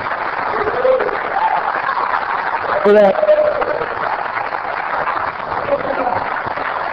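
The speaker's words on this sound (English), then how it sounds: "I think Barbara deserves a round of applause" Steady audience applause fills a city council meeting in Oceanside, a dense even wash of many hands under a brief spoken remark.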